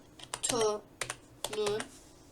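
Someone types a prompt on a computer keyboard in quick bursts of close key clicks, with a voice-like tone sounding alongside.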